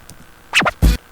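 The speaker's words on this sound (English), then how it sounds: "One scratch to be Sony acid and the other scratch to be Serato." Two quick DJ scratches played in Sony Acid Pro 7 software, a sharp zigzag scrape followed by a shorter, louder burst, close and dry with no talking.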